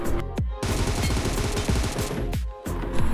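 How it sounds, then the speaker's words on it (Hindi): Rapid bursts of automatic gunfire in the battle-royale game BGMI, loud close volleys crackling continuously with a couple of brief pauses and no talking. "यहाँ पर सब जगह से गोली चल रही थी"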